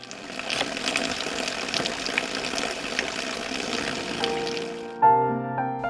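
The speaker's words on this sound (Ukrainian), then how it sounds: "Вода стікає в камінні жолоби." Spring water from limestone hills in Vrublivtsi runs into stone troughs with a steady rushing, splashing flow, then cuts off abruptly just before the end.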